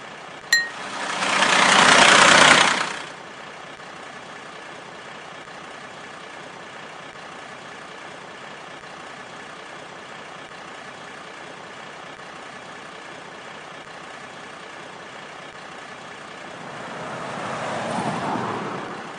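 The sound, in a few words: junk truck engine in a kids' video game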